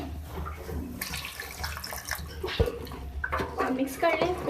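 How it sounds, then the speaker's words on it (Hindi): Water splashes into a pan of tinda (apple gourd) curry in a home kitchen, a short close pour with some stirring clatter, and a voice is briefly heard. "इसमें जो मैं 1/2 कप पानी ऐड कर रही हूँ"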